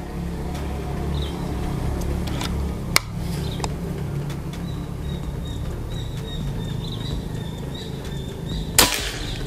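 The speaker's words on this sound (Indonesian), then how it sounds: "Tembakan ketiga." A PCP air rifle fires twice with crisp, brief snaps amid constant outdoor ambience, insects and a faint chirping bird.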